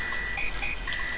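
A bearded frog character in Super Mario RPG gives a short, sustained synthesized croaking tone, steady and clean over the game audio.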